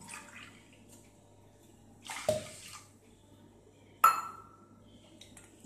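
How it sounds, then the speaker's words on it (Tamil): Two short bursts of water splashing into a pot, each with a brief clink, separated by quiet kitchen background. "2 கப்பு தண்ணி ஊற்றிடுவேன்."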